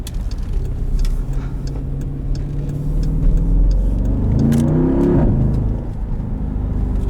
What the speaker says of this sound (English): burbles when you upshift under full acceleration is unlike anything else I've driven